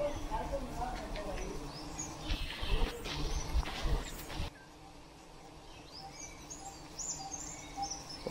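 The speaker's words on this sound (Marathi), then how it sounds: "आणि सुंदर असे पक्ष्यांचे आवाज आजूबाजूला." Birds call and sing in the sacred grove around Fondkan Dev temple at Nirom, Malvan, Sindhudurg, with light chirps scattered over a busy outdoor background that quiets midway, the calls staying faint and distant.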